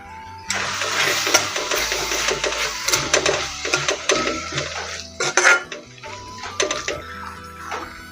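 A spoon stirs curry, seasoned with salt and coriander powder, in a pan before rice is mixed in. Repeated metallic scrapes and clatters sound close against a steady low hum.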